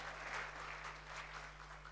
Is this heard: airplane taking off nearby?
no